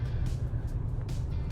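A car crawls in slow traffic at around 10–15 km/h on a road under construction between Ujjain and Omkareshwar, a steady low engine and road rumble heard from inside, with faint passing whooshes.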